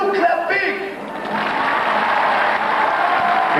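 A voice speaks briefly before a crowd breaks into loud, sustained clapping and some cheering, filling the space for several seconds.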